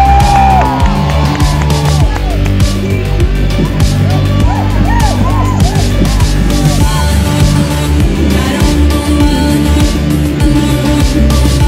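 A dense crowd at a flash mob cheers and shouts loudly and continuously over music, close and busy, with voices mixed in throughout.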